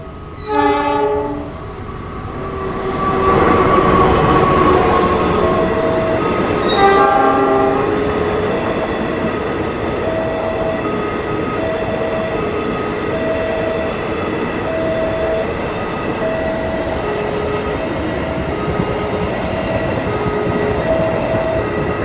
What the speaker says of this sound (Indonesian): itu tadi KRL udah melintas di JPL 166 petak Bayuman Grati